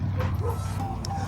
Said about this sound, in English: So I've just got dogs at my feet playing.